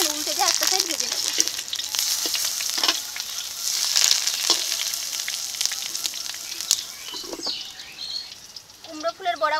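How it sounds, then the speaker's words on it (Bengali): Giant freshwater prawns wrapped in pumpkin leaf with mustard paste fry in a pan, making a loud, steady sizzle with crackling bursts as they are turned, while birds chirp faintly in the background. "এখন উল্টে দিয়ে একটা সাইড ভেজে নেব"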